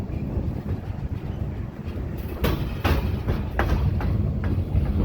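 A train crossing a bridge in the Mojave rumbles along steadily with rhythmic clacks and bangs as its cars roll over the tracks, loud and close.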